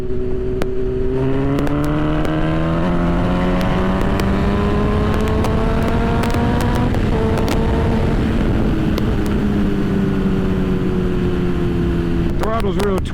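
A sport motorcycle engine under throttle, loud and close, climbing in pitch through several gear changes with brief dips between them, mixed with wind noise and a speaking voice underneath.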